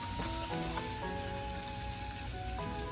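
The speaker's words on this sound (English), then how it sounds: "I'm going to keep stirring this because I don't want my orzo to get burnt" Orzo frying with onion in a pan for rice pilaf, a steady close crackling sizzle with faint scraping from stirring, continuous and even throughout.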